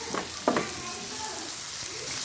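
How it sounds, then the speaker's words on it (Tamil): Tomatoes frying in a pan for a fish masala give a soft, steady sizzle with a few brief stirring scrapes near the start, quiet and close, with a faint voice under it. "தக்காளி இதோடு சேர்ந்து நல்லா வதங்கட்டும்"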